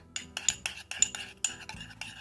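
A utensil briskly stirring olive oil and mustard in a bowl: rapid rhythmic clinks and scrapes, about ten strokes in quick succession, close and fairly quiet.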